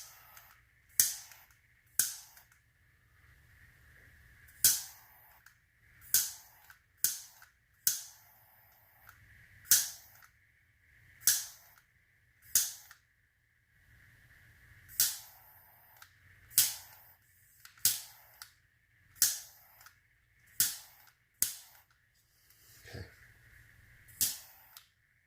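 A handheld torch used on an alcohol ink tumbler gives a steady run of sharp, loud clicks, about one every second or two, close by with no talk.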